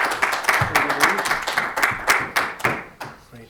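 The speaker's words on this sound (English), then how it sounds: "if everyone here could give a round of applause, a sign of appreciation for the guys that are" A lecture audience at a parametric design talk claps by hand, individual sharp claps in a loose, fairly sparse rhythm that thins out and fades near the end.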